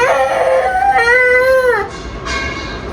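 A toddler cries on a school morning in a loud, continuous wail that rises and falls in pitch, breaking briefly near the end before resuming, close to the listener.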